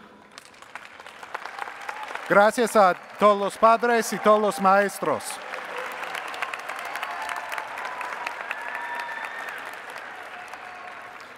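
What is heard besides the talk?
graduation audience applause for families and teachers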